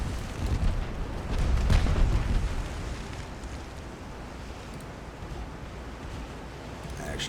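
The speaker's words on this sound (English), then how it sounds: "The other ships are firing at us and I don't see them." Naval gunfire and shell explosions in the Ultimate Admiral: Dreadnoughts game, set in an 1890 Italian fleet battle, with a heavy rumbling boom near the start that dies away into a steady roar like distant surf and more faint blasts.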